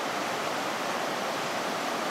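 Collins Creek rushes through a deep, rugged V-shaped valley, its water a steady, loud broadband roar with no breaks or voices.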